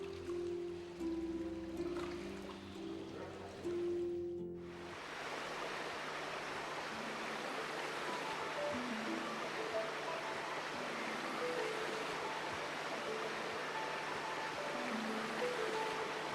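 Golden Weed Brook, a mountain stream at Jinbianxi, flowing steadily with a soft, even rush of water that continues alone after a short stretch of music fades out.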